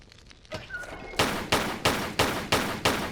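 Gunfire in Tomb Raider III: a few soft thumps, then six or seven loud evenly spaced shots ring out in a steady rhythm, each trailing off briefly.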